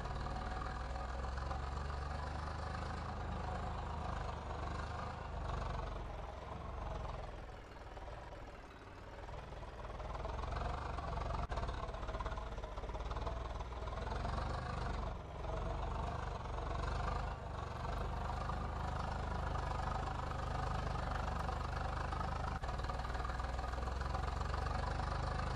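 A Swaraj 855 tractor engine in Farming Simulator 22 with an Indian mod runs steadily throughout, a continuous low drone that dips briefly in the middle and then resumes at a constant level, with no talk.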